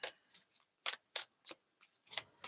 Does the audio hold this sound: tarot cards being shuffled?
yes